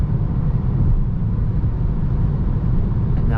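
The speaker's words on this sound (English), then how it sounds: "Back to 130 kilometers per hour limit, so let's accelerate." A 2022 Peugeot 308 plug-in hybrid with a 180 hp powertrain and eight-speed automatic speeds up on a highway, a steady heavy road and engine roar heard from inside the cabin, with no talk.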